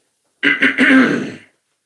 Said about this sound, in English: sorry for me coughing, I do apologise.